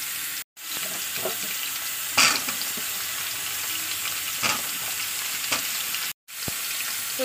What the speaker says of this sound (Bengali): পেঁয়াজটা একটু ভাজা ভাজা করে এর উপর দিয়ে দেবো আলুটাকে।